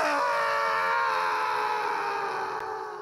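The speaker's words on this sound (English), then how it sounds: "They screamed as they fell to the ground" Audiobook sound effect of cartoon characters screaming as they fall: one loud, sustained, high-pitched scream that slowly sinks in pitch and fades slightly over a few seconds.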